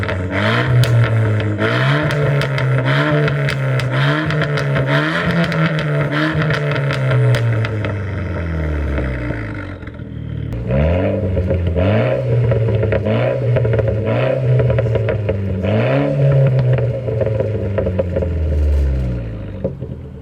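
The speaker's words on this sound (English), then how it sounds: "What we'll do is we'll get a start up and do a little rev on it right now." Straight-piped 250bhp Renault Clio RS with no silencers, engine running loud and raw with repeated rising and falling revs, a brief dip midway, then more blips, harsh and close.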